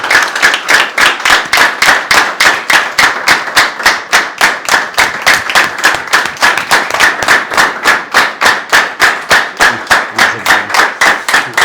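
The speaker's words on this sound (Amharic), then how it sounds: "በጣም እሱን ጭብጨባ ከቀጠላችሁ ታሼ ይመጣል" A hotel hall audience claps in loud, tightly synchronized rhythmic beats, evenly spaced and sustained throughout with no voices over it.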